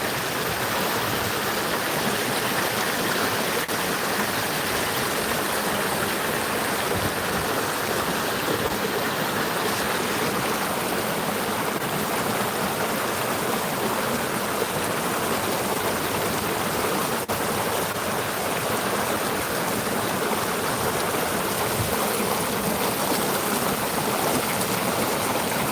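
Creek water flows and babbles steadily at McMillian Creek, a continuous broadband rush close by that fills the whole stretch without pause or speech.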